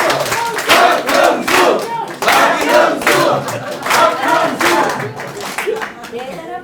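A crowd at a party members' meeting claps and shouts in bursts of loud applause, with voices calling out and cheering mixed through the rhythmic clapping.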